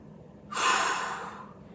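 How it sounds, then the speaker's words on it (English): One deep breath drawn in sharply through the nose and mouth during a gentle mobility workout, a single airy inhale that swells and then slowly fades, close and alone without any voices. "One more big breath."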